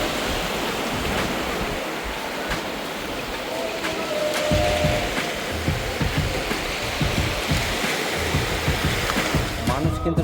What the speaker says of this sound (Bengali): সমুদ্রের যে জলের একটা ঢেউ